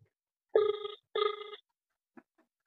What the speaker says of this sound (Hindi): कमिश्नर का नाम है अशोक करंजकर सर, उनको कॉल लगाते हैं एक बार फिर से